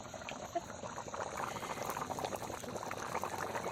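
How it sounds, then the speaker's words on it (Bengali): A pot of country chicken curry with papaya bubbles at a steady boil, a dense close simmering burble with no talking. "দেখো কি সুন্দর ফুটছে"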